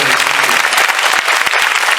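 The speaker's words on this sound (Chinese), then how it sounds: "我们给他们一个热情的掌声，好不好？" Crowd at a hotline fundraising thank-you concert in Xinzhuang claps warmly for the volunteers, a loud, continuous burst of many hands, with a faint low hum under the opening moment.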